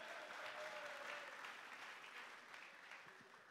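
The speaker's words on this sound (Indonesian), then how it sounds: "Tepuk tangannya dong." Applause from an audience at a Human Rights Day commemoration event, a faint, distant wash of clapping that slowly tapers off.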